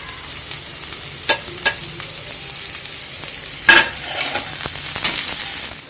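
Onions and capsicum frying in oil for Tamil-style egg fried rice, a steady close sizzle broken by several sharp scrapes and stirs of a spatula, with no voices.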